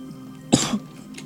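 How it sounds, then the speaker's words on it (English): A single sharp, close cough bursts out from a person in a quiet room during a Celeste play session, with a little trailing throat noise as it fades. "Sorry about my cough."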